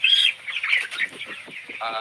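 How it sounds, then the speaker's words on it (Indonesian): Broiler chickens on a poultry farm chirp and cheep in a dense, high-pitched flock chorus, steady and fairly close throughout. "ayam broiler"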